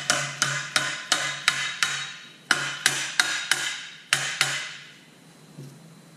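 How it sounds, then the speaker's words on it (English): A dead blow hammer drives a transmission adapter plate onto an engine block in a close series of about fourteen sharp, solid strikes in quick bursts, followed by quiet, with no talking. "Take a dead blow hammer,"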